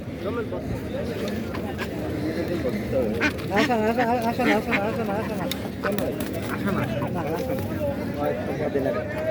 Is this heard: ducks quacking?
yes